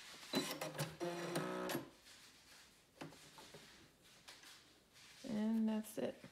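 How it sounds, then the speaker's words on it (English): A sewing machine runs a straight stitch and a back stitch in short motorized bursts, a whirring, buzzing drive starting and stopping with quiet pauses between runs. "And it sews on its own and it keeps a straight stitch."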